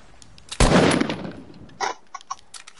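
A burst of gunfire from enemy players in an online duos shooter game, one loud sustained volley followed by a few scattered fainter shots.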